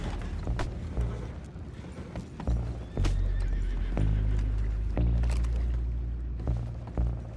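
Horses neigh and whinny loudly over clopping hooves and creaking movement in Red Dead Redemption 2, several calls spread across the clip.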